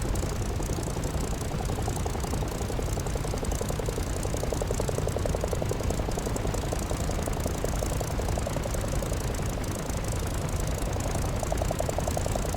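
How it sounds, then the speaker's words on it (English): An aircraft engine idles in the DCS World flight simulator, a steady, even drone with a fine rapid throb that stays constant throughout, with no talk. "Continue to idle the engine at 1000 to 1200 RPM until ready to taxi or perform a pre-flight check"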